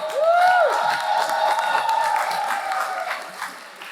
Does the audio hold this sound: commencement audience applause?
yes